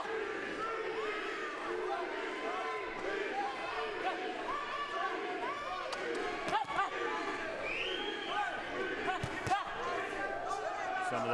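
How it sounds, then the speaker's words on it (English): An arena crowd at a boxing fight chants rhythmically, a dense, steady roar of voices with occasional sharp thuds, heard beneath a commentator's talk. "Some of those in the crowd chanting beast"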